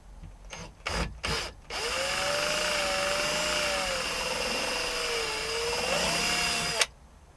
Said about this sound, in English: I'm going to drill it out.